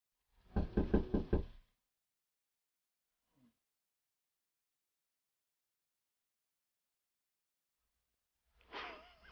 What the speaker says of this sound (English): Didn't hear. Knock again.